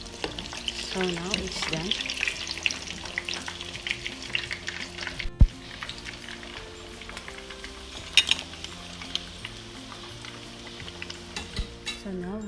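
Fish frying in a pan until crispy, a steady sizzle with stirring scrapes and an occasional sharp clink, under background music, with a few spoken words.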